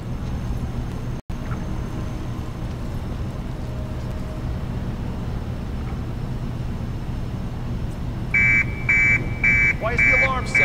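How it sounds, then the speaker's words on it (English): An alarm in the video game Hitman (2016). A steady low droning background runs throughout, then near the end a loud electronic alarm pulses in repeated rapid beeps. "Why is the alarm sound?"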